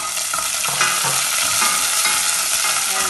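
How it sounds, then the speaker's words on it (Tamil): Fennel seeds, shallots, green chilies and curry leaves sizzle in hot oil in a pan while being stirred, a dense, steady crackling hiss close up with no voices. "அதுக்கு வெட்டி வச்ச உள்ளி, பச்சை மிளகாய், கருவேப்பிலை எல்லாத்தையும் போட்டு"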